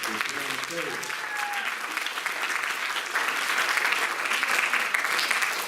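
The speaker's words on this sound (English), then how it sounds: "Could you give me a round of applause?" An audience at a high school spring choir concert applauds to welcome the choir, a dense sustained wash of clapping from a crowd, with a voice audible briefly early on.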